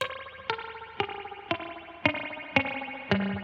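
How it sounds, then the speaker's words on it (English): A series of evenly spaced plucked guitar notes through spring reverb, each with a springy, drippy reverb tail, about one every half second. "you get this tight little drippy sound"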